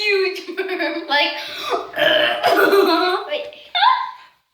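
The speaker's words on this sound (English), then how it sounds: "She just got a huge burp." Burps from a woman trying to burp, several long, loud, voiced belches in a row, close to the microphone and heard alone, with a final shorter rising burp.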